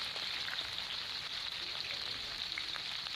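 A steady, soft sizzle of chopped onions frying in hot oil, a continuous crackling hiss at low volume with no talking.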